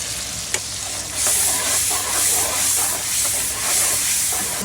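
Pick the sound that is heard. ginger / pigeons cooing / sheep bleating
ginger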